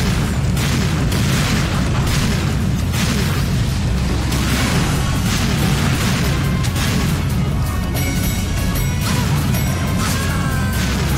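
Loud, dense game-combat audio from Serious Sam 2, with heavy booming cannon fire and crashing blasts running continuously at full volume and no clear pauses.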